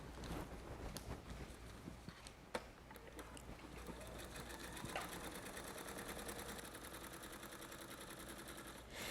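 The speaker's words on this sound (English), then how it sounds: "You're going to sew on the dotted line and follow it all the way around, doing a continuous line over the block." A sewing machine runs continuously, stitching a quilt block along a dotted paper line, with a steady rapid mechanical rattle that stays close and fairly loud throughout with no pauses.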